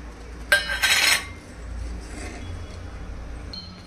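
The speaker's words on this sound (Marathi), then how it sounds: "कढीमध्ये आपण आता हे पकोडे सोडून घेऊया" A brief clattering splash of pakoras dropped into a pot of boiling kadhi, then a low simmering bubble and faint kitchen hum.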